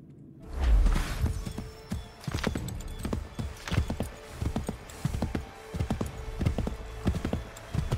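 Horse hooves clip-clopping in Assassin's Creed 3, a steady run of close, crisp hoofbeats after a heavier thud at the start, no talking.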